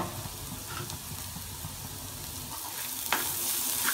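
Chopped garlic cloves fry in hot oil for a Tamil poricha kuzhambu with drumstick, giving a soft, continuous sizzle with a few light stirring scrapes and a brief sharper crackle near the end.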